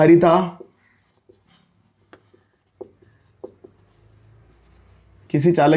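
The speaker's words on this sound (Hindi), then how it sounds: "एक नोट लिख देते हैं हम" Pen or chalk writing a note on a board during a Class 12 physics lecture on electric capacitance, a few soft scattered taps and strokes in a quiet gap between stretches of the teacher's speech.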